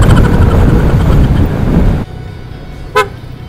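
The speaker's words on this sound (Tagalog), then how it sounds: "shout out sa aking horn, PIAA auto horn style" A PIAA auto horn on a motorbike gives one short, loud toot on a hilly road, following heavy wind and engine rumble that cuts off abruptly.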